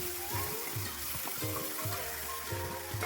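Ground spices frying for palak paneer, with a steady close sizzle and a regular rhythmic scraping as the spoon mixes round the pan, repeating roughly every half second.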